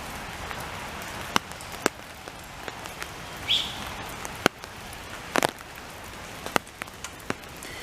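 Rain falling in a summer cottage garden in July, a soft steady patter with scattered sharper drips and taps landing close by throughout, no voices.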